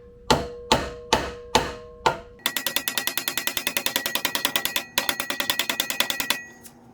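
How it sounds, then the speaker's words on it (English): A ball peen hammer strikes a mini bike muffler: five spaced, ringing metallic blows, then a fast run of dozens of sharp repeated hits with a brief pause partway, close and clear. "I'm just gonna take this ball peen hammer and kind of lower it all."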